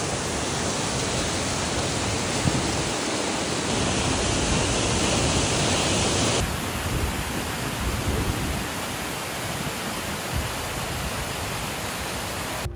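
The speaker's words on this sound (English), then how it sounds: "So that was a really good waterfall" A strong waterfall pours with a steady, dense rushing roar at close range, broadband and unbroken throughout, with no voices heard over it.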